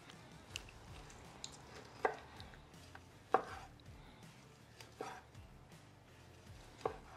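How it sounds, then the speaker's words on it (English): Knife cutting through a reverse seared tomahawk steak, cooked medium rare on an electric steak grill, after the string is removed; a handful of quiet, sharp slicing strokes land at irregular intervals with no voices. "So let's go ahead and slice into this bad boy."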